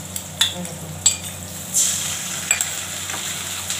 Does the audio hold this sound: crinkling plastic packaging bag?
no